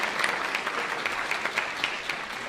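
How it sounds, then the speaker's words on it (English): An audience at a Ben Shapiro Q&A event claps in a steady, moderately loud burst of applause with sharp individual claps standing out, heard from within the hall and lasting only a couple of seconds. "A round of applause for them, because I appreciate it."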